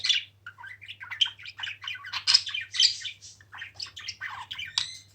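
Two male pet budgerigars chatter in rapid, overlapping squawks and chirps, a busy, continuous stream of close bird calls with no voices.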